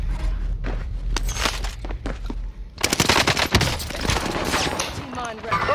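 Bursts of automatic gunfire and single shots crack through a video game firefight, sparse at first and then dense and loud, mixed with footsteps and thuds while a player talks over the action.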